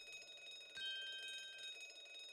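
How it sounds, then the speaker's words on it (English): A quiet alarm bell rings in the Great Ace Attorney Chronicles video game, a steady high metallic tone with a brief louder strike near the start, fading out after about two seconds, with no talk. "This would appear to be an alarm bell."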